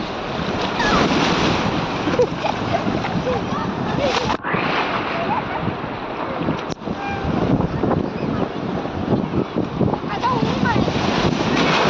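Loud, continuous crashing of ocean surf with heavy wind rumble, waves breaking close by and steadily.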